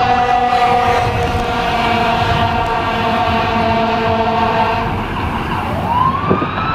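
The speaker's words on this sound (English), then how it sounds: "It's a fire truck, so that's normal." A fire truck siren wails steadily and loudly over continuous road traffic noise, its tone sweeping and bending near the end as the truck passes close by.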